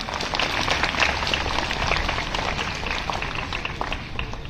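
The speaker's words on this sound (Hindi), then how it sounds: "तो शिक्षकों के लिए एक बार सभी तालियां बजा लें।" An audience at a school welcome event claps steadily for the teachers, a dense, even wash of applause lasting several seconds without pause.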